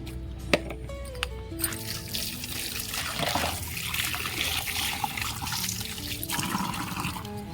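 Water is poured onto potted plants, trickling and splashing into soil in a continuous close flow with a few sharp drips and knocks early on.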